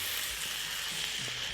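A boneless spatchcock poussin fries skin-side down in a wok, giving a brief, steady hissing sizzle with no voices.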